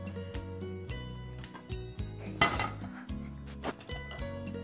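A cooking pan is set down on a kitchen stove with a few metallic clanks and knocks, spaced irregularly, some sharp and some softer, with no talking.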